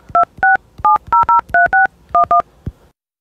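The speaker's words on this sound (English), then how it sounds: "Now let's see what happens when I call my own number with my own phone." Touch-tone phone keypad dialing a number: about a dozen crisp dual-tone beeps in quick irregular groups, loud and close, with no talk.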